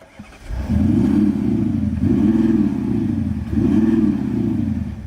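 A deep, loud 4-litre twin-turbo V8 diesel engine in a 2017 Audi SQ7 revs repeatedly, rising and falling in three strong surges after a brief quiet start, close by.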